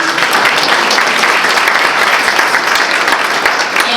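An audience at a City of DeSoto State of the City event bursts into dense, steady applause, loud and close, with no voices standing out above the clapping.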